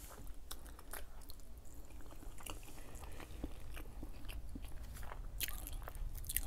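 Close, wet chewing of leftover Thanksgiving turkey, with steady biting and crunchy, squishy mouth sounds repeating throughout.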